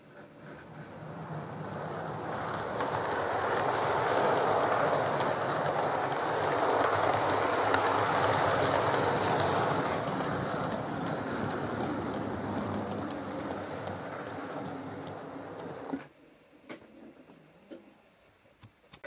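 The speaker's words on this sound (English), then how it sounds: "To wheel the Hornby Brighton Belle into position" Hornby 1967 Brighton Belle model train rolling along its track, a steady rumbling whir that swells and holds for about fifteen seconds, then cuts off into near quiet with faint clicks and handling noise.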